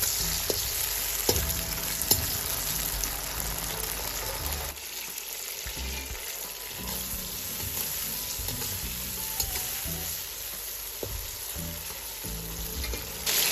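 Tomatoes fry in oil in a pan for a Kazakh eggplant salad dinner, giving off a steady, dense sizzle with occasional stirring scrapes, close and continuous, with no voices.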